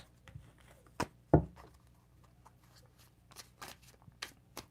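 Tarot cards are shuffled by hand in a few quick riffles and soft slaps, close and fairly quiet, with small rustles in the pauses between.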